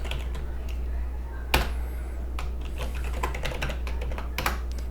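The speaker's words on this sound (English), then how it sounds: "all I'm going to type in is sudo apt install" Keys clatter on a computer keyboard as a Linux command line install command is typed, with irregular bursts of close, crisp clicks and one louder tap over a steady low hum.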